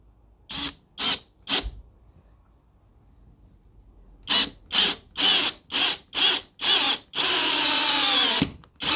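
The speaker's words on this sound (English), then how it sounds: "It's just a screwdriver really, drill screwdriver." A cordless drill-screwdriver driving screws while installing an outdoor kitchen whirs in three short bursts, pauses, then runs in a series of quick pulses before one longer sustained run, close and loud.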